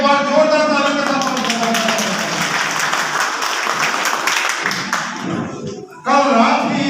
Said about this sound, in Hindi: एक बार जोरदार ताली के साथ